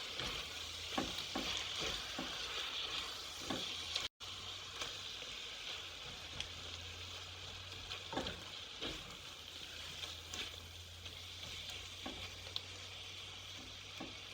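Chicken curry with tomatoes frying in a pan while it is stirred now and then: a soft, steady sizzle with occasional spoon scrapes and clicks, and one brief gap near the start. No one speaks.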